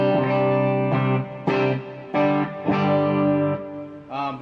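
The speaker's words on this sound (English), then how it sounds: "Right now I have no pedals on, this is just straight amp with a little bit of reverb." An electric guitar played straight into an amplifier with a little reverb and no pedals, sustained chords struck about every half second and ringing out, warm and close, with no voices.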